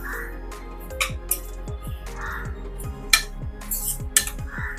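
Jaggery lapshi is mixed in a pan with repeated metal spoon scrapes and clinks in an uneven rhythm, close and moderately loud, with a faint background hum and a few bird calls.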